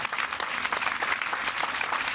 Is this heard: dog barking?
no